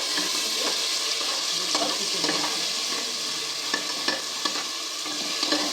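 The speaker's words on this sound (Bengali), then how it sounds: "এবার মশলাটা আমি কষিয়ে নেবো।" A paste of onion, garlic, ginger and tomato with turmeric fries in a pan, with a steady close sizzle and faint scraping stirs throughout.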